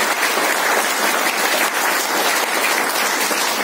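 Audience at a health seminar giving a loud, sustained round of applause to welcome a speaker, with dense, even clapping from a close crowd throughout.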